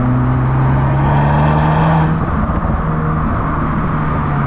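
A 2023 Audi S3 engine drones loudly at steady pitch from the cabin, easing off around the downshift with a rougher exhaust burble beneath; no one speaks.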